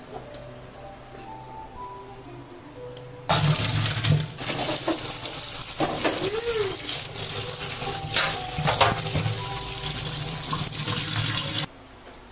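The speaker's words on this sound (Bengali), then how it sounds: "সেদ্ধ হয়ে গেছে, এখন আমি জলটা ফেলে দেবো" Water from boiled young jackfruit poured off from a pot into a sink, a loud steady splashing gush lasting about eight seconds before cutting off, with faint clinks of the pot.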